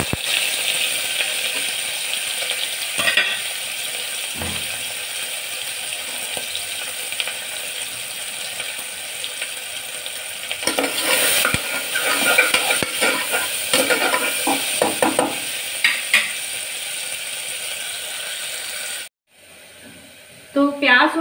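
Onions fry for a mutton curry with a continuous loud sizzle, broken by scraping stirs and clatter partway through, before a sudden near-silence and a quick return of noise at the end.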